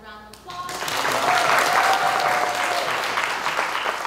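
An audience bursts into applause after a live performance. The clapping swells quickly after a short moment of talk and holds as a dense, steady wash of sound with scattered cheering.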